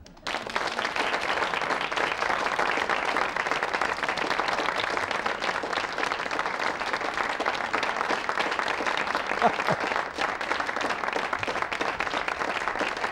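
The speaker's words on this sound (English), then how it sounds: "Oh, yeah, the applause is ending." Studio audience applause on a talk show, as a guest is welcomed with a long, even roar of clapping that holds steady and loud throughout, with no talking heard.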